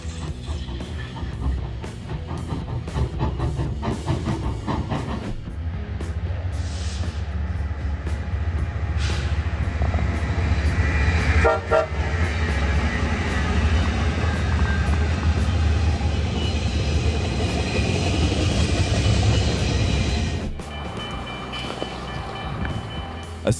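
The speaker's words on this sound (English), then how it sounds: "it's a historic steel mill engine that's been carefully preserved at a museum in Ohio" A historic steel mill locomotive preserved at an Ohio museum rumbles with a heavy low engine drone that builds to a steady roar, with clanking mechanical transients and a sudden drop near the end.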